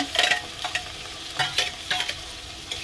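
Ginger paste and tomato going into a hot frying pan, bursts of sizzle and spoon scrapes in short clusters, close and clear, with no talk.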